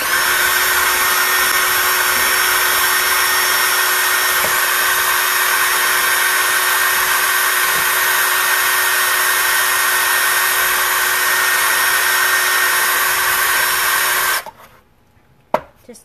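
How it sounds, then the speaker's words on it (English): A power drill mixing ceramic glaze whirs steadily and loudly for about fourteen seconds, then cuts off abruptly, leaving near silence with a couple of small knocks. "I'm going to mix it with a drill."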